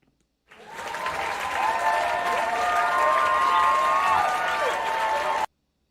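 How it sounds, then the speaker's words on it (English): A crowd applause sound effect starts abruptly, holds as a dense, loud, steady roar of clapping with faint cheering and whistle-like tones mixed in, then cuts off cleanly. "So let's just give that some applause here."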